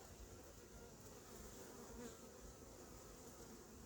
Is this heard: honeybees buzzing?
yes